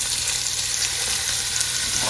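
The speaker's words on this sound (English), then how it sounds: "we are going to add to this onion and carrot, and we're going to cook that for about 8 minutes" Onion and carrot sizzle in a pot for garden minestrone, a steady, dense frying hiss that holds evenly throughout with no voices.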